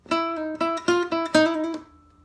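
On acoustic guitar, the intro lick of a song comes as five quick plucked notes in a bouncy rhythm, ending on a softer ringing note that decays, with no voice.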